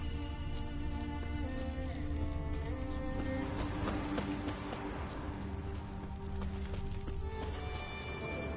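Horse hooves clip-clopping at a steady gallop in The Witcher 3, a continuous rhythmic thudding over a dense bed of game ambience and music, with no voices.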